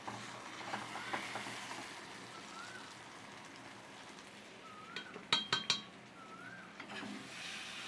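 Pots and metal utensils clink and scrape as braised, well-fried meat is moved into a pressure cooker, with a low steady kitchen murmur and a quick cluster of three sharp clinks near the end, moderately close.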